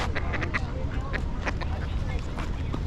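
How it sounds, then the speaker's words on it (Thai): Several short quacks from ducks close by, scattered irregularly amid background noise and people talking. "เป็ดน้อย"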